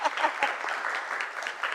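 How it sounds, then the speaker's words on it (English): Applause from a luncheon audience greeting a sponsor, a steady patter of many hands clapping at moderate level, with faint talk mixed underneath. "You can clap."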